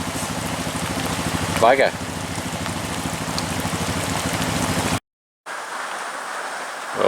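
Steady rain hisses outdoors by a rising creek on a wet hunting trip, a continuous broadband wash with a brief muttered voice early on, cutting to silence before resuming as a softer drizzle.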